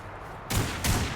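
Gunfire in the sci-fi shooter Lost Planet 3, aimed at an ice builder: two loud, close blasts roughly a third of a second apart, each breaking sharply out of a low background hum.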